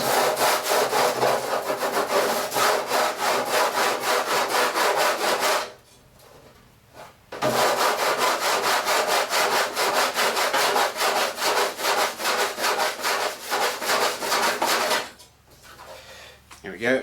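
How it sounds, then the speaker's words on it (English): Steady back-and-forth rasping of a perma-grit sanding block on rough metal edges, loud and close, with one brief pause midway and a quieter stretch at the end. "Just use one of these perma-grit sanding blocks."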